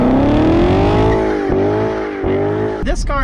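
Loud and close, a C7 Corvette Stingray's naturally aspirated 6.2-liter V8 pulls hard through two gear changes on Miami streets, its rising drone cutting off abruptly near the end.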